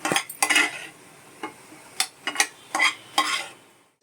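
Cashews and mushrooms lightly frying in a pan, heard as a series of short stirring scrapes and clinks of a spoon against the pan over a faint background sizzle.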